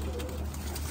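Domestic pigeons coo softly at close range over a hissy, breathy background, a low murmuring call within a brief moment.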